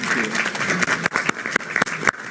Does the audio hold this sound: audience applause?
yes